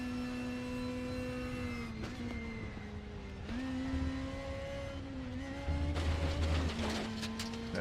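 Alfa and Opel Super Touring race car in RaceRoom, engine droning steadily with gear shifts and revs, then a rougher crunching rumble as the car runs onto gravel near the end.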